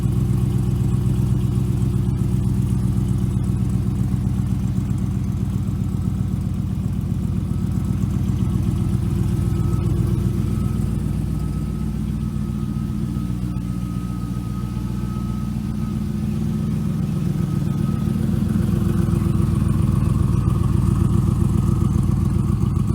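A 1967 AC Cobra kit car with a 7-liter LS7 V8 and six-speed manual idles with a steady, deep, close rumble. Its tone dips slightly for a few seconds, then returns to a loud lope, with no voices.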